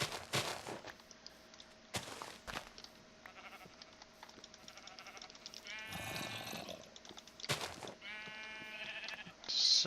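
Sheep in a survival video game bleat a few times in short wavering calls, separated by sharp clicks and thuds, fairly quiet against a faint steady hum.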